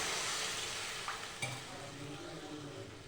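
Egg curry is stirred in a pan, a soft sizzle and a gentle scraping with one or two light utensil taps, heard close and quiet.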